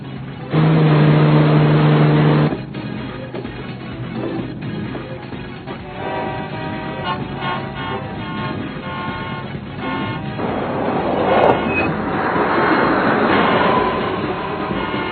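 Busy city traffic rumbles through a New York City street scene in a Tagalog-dubbed Hunter x Hunter anime episode, a steady wash of vehicle noise with a loud tonal blare near the start and swelling passes toward the end.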